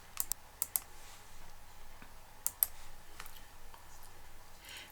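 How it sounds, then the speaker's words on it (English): Keys tapped on a computer keyboard while a museum search is typed into a destination field, a few quiet clicks in short bursts over low room hum, no talking. "Type museum into the destination field and then click on Apply Filters."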